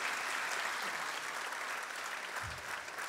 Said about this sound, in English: you can hear the applause from the students